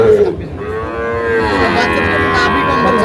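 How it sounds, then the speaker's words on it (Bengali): Sahiwal bull calves, six to seven months old, moo at a cattle market: one long, loud, drawn-out low moo close by over the market's background bustle. "দুটো শাহিওয়াল ষাঁড় বাচ্চা"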